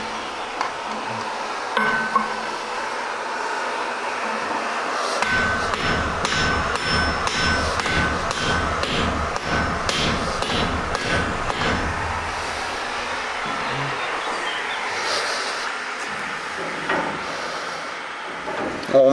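A blacksmith hammers hot iron into medieval-style hinges for a chateau's front gate, striking in a fast, steady rhythm of ringing blows for much of the time, with pauses and workshop clatter around the hammering.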